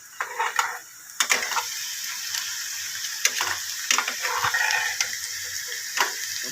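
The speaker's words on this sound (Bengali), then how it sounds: "এবার ডিমটা গুলে নেব।" Eggs being beaten in a bowl with a little salt for fish Mughlai paratha, a quick irregular clatter of utensil against bowl in short bursts, fairly close, with a steady background hiss and no talking.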